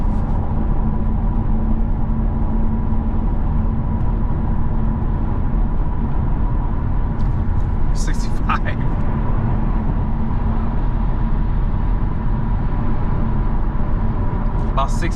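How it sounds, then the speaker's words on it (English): Cabin road noise inside a Chevy Camaro V6 while driving, a constant low broadband roar of tires and wind with steady loudness and a few faint clicks. "Now let's go ahead and see how loud this interior is."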